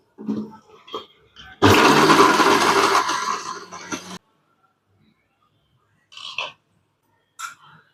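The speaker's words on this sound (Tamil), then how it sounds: "ஃபஸ்ட்டு தேங்காய் கொஞ்சம் குறன்னு அரைச்சிட்டு அப்புறம் தண்ணி விட்டு அரைக்கலாம்." Mixer grinder running on coconut masala, coarse-ground dry, for a thatta payar kulambu: a loud, steady whirring grind lasting about two and a half seconds, with brief kitchen noises and short sounds before and after.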